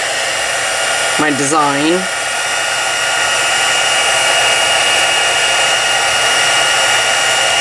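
A heat tool blows steadily to dry a stenciled card, a loud, constant close whirring rush of air throughout, with a brief spoken phrase over it early on.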